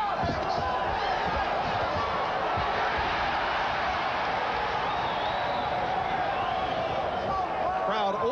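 A boxing arena crowd roars and cheers continuously during an IBF lightweight bout between Vinny Pazienza and Greg Haugen, a dense, loud wall of voices reacting to punches.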